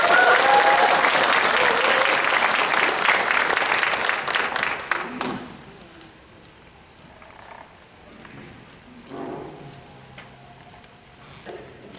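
A church congregation claps warmly for about five seconds to welcome an elder to the pulpit. The dense applause then fades, and quiet room noise follows with a few faint sounds.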